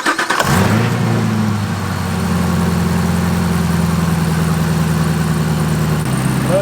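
A Camaro ZL1 with the supercharged LT4 V8, converted to a flex-fuel E85 kit, fires up on its first startup and settles into a loud, steady, deep idle with an even rumbling pulse close by.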